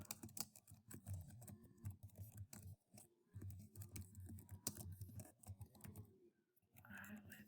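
Fingers typing on a computer keyboard give quiet, irregular clusters of clicks and taps close by, with short pauses between runs and no clear speech.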